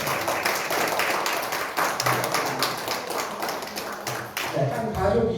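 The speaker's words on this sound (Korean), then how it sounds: "박수 한번 주시겠어요?" A small conference audience in Gimhae, South Korea claps steadily for several seconds, the individual hand claps distinct and close, fading near the end.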